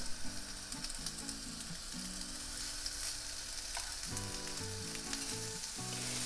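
Meatballs sizzle loudly and steadily in a hot cast iron pan, with faint music playing underneath.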